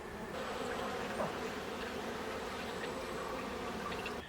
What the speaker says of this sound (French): Les abeilles travaillent bien.